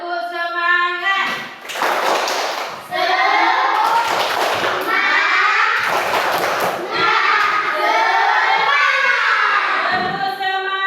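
A group of children do the rhythmic 'tepuk semangat' clapping chant in a classroom, with sharp bursts of unison claps alternating with loud, energetic chanting voices.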